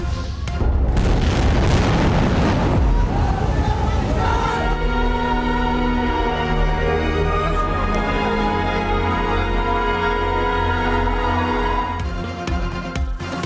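Israeli bombardment in Gaza in news footage: dense, loud rumbling blasts and booms, then a sustained roar with a steady droning hum, continuing throughout with no clear pauses.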